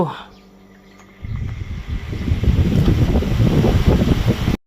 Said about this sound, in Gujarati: કુલરની હવા ખાઈએ ગરમીમાં, ઠંડી હવા